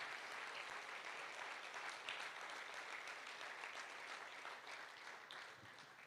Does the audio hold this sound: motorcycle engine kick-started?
no